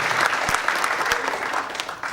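Comedy audience in a performing arts center applauding, a thick continuous clapping wash with a couple of distinct louder claps, tapering slightly toward the end.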